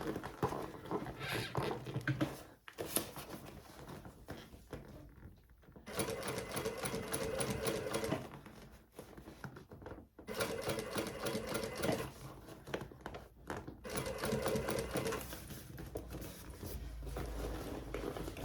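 A sewing machine stitching a handbag lining runs in long continuous bursts of rapid stitching, pausing briefly between runs, close and steady.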